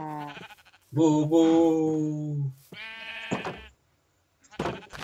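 Blocky farm sheep in Minecraft bleat several times in quick succession, loud nasal calls with short pauses between them, with a brief spoken syllable near the start.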